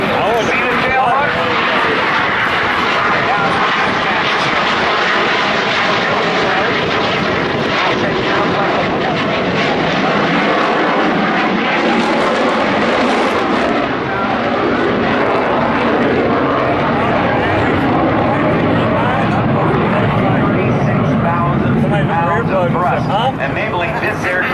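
An F/A-18 jet making a low carrier configuration pass at the NAS Oceana airshow, a loud sustained engine roar that fills the whole stretch, with an announcer talking over it.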